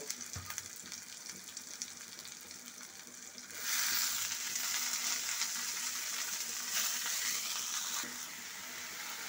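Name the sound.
florets added and frying in reddened spices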